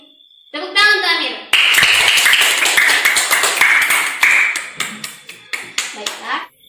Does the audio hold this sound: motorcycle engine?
no